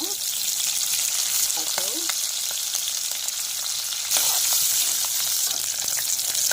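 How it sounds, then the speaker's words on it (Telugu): Onion and green chilies sizzle steadily in hot oil with cumin and mustard seeds, a dense continuous frying hiss with small crackles and a few utensil taps, close and alone. "ఆనియన్ పచ్చిమిర్చి కొంచెం బ్రౌన్ కలర్ వచ్చే వరకు ఫ్రై చేసుకోవాలి."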